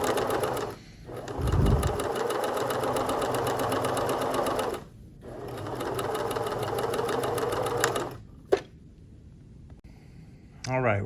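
A sewing machine stitches a curved bias hem in long steady runs of rapid whirring, with short pauses between bursts and a voice talking over part of it.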